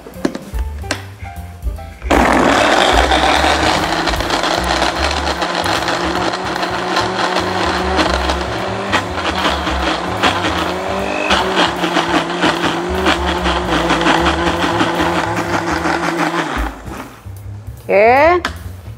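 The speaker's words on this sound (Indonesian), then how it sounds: "Oke, bawang merah, bawang putih dulu, sama kemiri, kunyit, dan jahe. Kita 2 kali blender ya mam ya." A blender grinds shallots, garlic, candlenut, turmeric and ginger, a loud continuous whirring that starts abruptly after a short pause and runs steadily for most of the clip before cutting off near the end.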